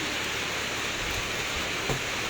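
Rain falls steadily as a continuous, even hiss with no break and no voices.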